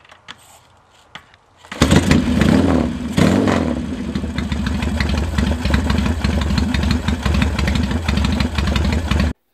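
A Norton motorcycle fitted with Keihin CRS carburetors fires up after a few quiet clicks and settles into a loud, steady, close idle with an even throbbing beat that runs to the end.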